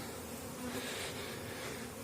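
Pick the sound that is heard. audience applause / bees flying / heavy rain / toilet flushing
bees flying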